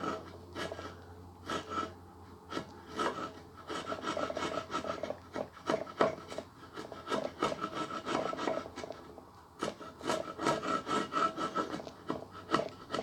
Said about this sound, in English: Chiseling wood is a bit challenging.